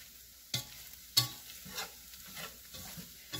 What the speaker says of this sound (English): You do not want to let the flour brown, so just keep stirring it.